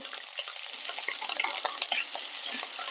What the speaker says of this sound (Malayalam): ഇഞ്ചിയൊക്കെ നന്നായിട്ടൊന്ന് മൂത്ത് വരണം കേട്ടോ